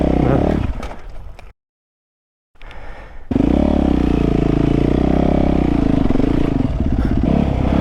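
Yamaha YZ450 dirt bike engine revving hard while climbing a hill, loud near roar broken by a short drop to silence, then a sustained throttle-held drone with clattering underneath.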